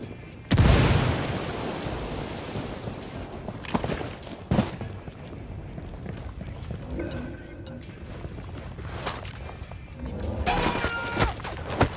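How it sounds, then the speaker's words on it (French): Frag grenade blast in Ghost Recon Wildlands: one loud, booming explosion near the start. Scattered gunfire-like thuds and game noise follow, with voices talking in the background. "Frag lancé. Attention les yeux. Explosión."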